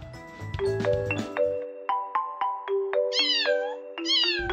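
A cat meows several times in quick succession, close and clear, with rising and falling calls and brief pauses between them.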